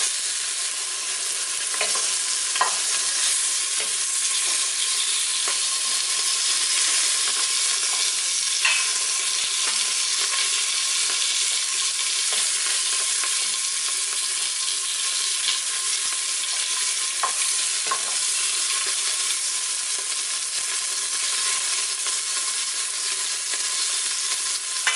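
Beef chunks for bourguignon searing in a hot pan, a dense, steady sizzle throughout with occasional faint clicks of stirring, close and continuous with no talking.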